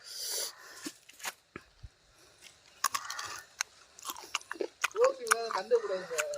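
Someone bites and crunches into a large raw unripe mango, giving sharp crisp snaps and chewing bursts close to the ear, with bits of talk in between.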